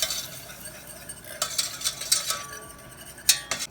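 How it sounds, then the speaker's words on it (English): Powders being whisked into melted butter in a pan, a quick scraping swish with light metallic clinks of the whisk against the pan and a faint sizzle underneath, close and without talk. "So now I'm going to put the powders in here and whisk it all together until it's really smooth"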